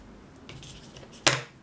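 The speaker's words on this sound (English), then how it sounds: "Okay, and you can cut this off." A single crisp snip of scissors cutting crochet yarn on a small amigurumi teddy bear keychain, preceded by faint handling rustles in a quiet room.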